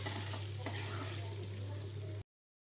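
Dry red chillies, whole cumin and small cardamom hit the hot oil left from frying potatoes, giving a steady, even sizzle over a low electrical hum that cuts off abruptly near the end.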